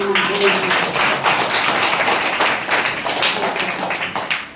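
Hands clapping at a Sravana month gathering honoring Mallapur women, a dense burst of rapid claps continuing throughout, with voices mixed underneath.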